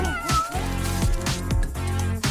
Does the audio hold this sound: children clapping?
no